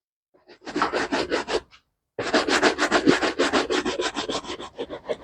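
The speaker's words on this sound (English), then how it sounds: "here is my brush. So I'll start the polishing." A brush scrubbing shoe polish onto a shoe in quick, rhythmic back-and-forth strokes, loud and close. A short burst is followed by a pause, then a longer, steady run of brisk rubbing.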